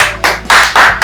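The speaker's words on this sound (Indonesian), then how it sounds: "kasih tepuk tangan buat kalian" Four sharp, loud hand claps in a steady rhythm, close by, given as applause to a punk rock band during an interview.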